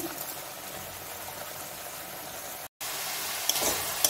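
Spice paste of onion, ginger and garlic frying in a pan for raw jackfruit curry, a steady soft sizzle throughout with a brief gap and a few stirring clicks near the end.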